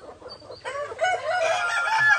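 Young Orpington Blue pullets cluck and call in a farm flock of native chickens, a busy chorus of bird voices that swells after a quiet start and carries steadily close by.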